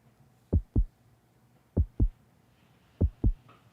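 Close-miked heartbeat from a chest, three clear lub-dub pairs of deep thumps at an even, relaxed pace against near silence.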